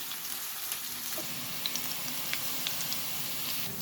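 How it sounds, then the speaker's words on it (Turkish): Finely chopped peppers sizzle steadily in a cup of vegetable oil in a pan, a continuous bright crackle with small pops scattered across it, close and fairly quiet with no talk. "Bir fincan sıvı yağımı ekliyorum. 3-4 dal biber ince kıydım. Biberlerimiz hafif pembeleşsin."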